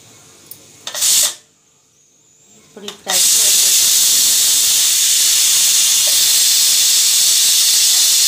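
A pressure cooker of prawn curry releases steam through its whistle: a short hissing spurt, a brief pause, then a loud, continuous jet of steam that carries on to the end.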